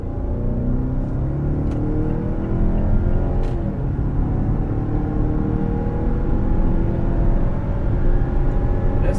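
A 2019 Mazda CX-9 Grand Touring accelerates hard in sport mode, its engine and road noise rising in a steady, loud interior drone with no talking.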